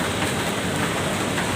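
Heavy rain drums steadily on a shed roof, a dense, even hiss of countless drops that stays loud and close throughout with no voices over it.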